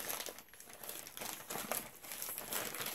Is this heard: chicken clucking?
no